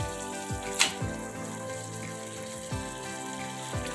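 Prawns dropped into a pan of yogurt-based masala for prawn biryani, giving a steady close sizzle and bubbling with a few soft clatters and stirring knocks, and no one speaking.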